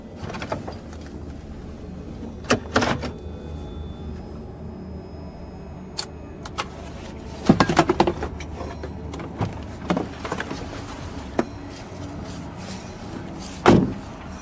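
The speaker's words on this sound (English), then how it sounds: "So you could hear that he unbuckled his seatbelt and he got out of the car" Inside a parked car, a seatbelt is unbuckled and the driver climbs out, with sharp clicks, metallic jangles and a door thud spread over quiet steady background noise.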